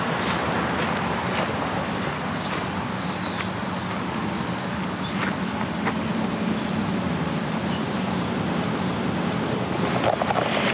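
A river flows right beside a campsite near Delta, Colorado, giving a steady, broad rushing wash that carries on unbroken and fairly loud throughout, with no voices over it.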